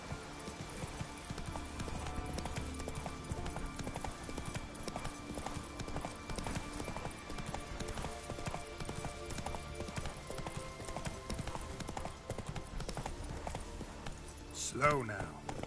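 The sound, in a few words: horse Roach galloping, hooves, from video game The Witcher 3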